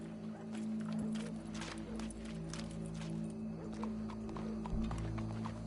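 Steady clip-clop of horse hooves in the video game Red Dead, a brisk regular rhythm of hoofbeats over a low background hum, with no voices.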